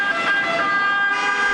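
An ambulance siren wails loudly and steadily, rushing toward the emergency room in Cosenza, with a continuous high tone and no pause.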